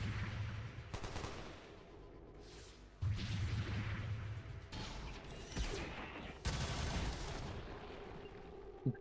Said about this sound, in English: Oh, casually shooting through the wall.